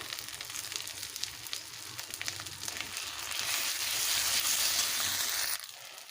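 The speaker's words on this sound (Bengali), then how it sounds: "মশলাটাকে ভেজে নেব ভালোভাবে" A ground paste of ginger, cumin and dried red chilli fries in oil for mutton kosha, a close, continuous sizzle that swells louder midway before suddenly dropping back.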